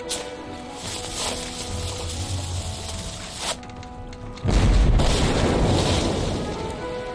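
A ship's cannon in the Jack Keane 2 boat sequence fires a cannonball: steady ambient hum and music, then a sudden loud deep boom that rumbles and slowly fades.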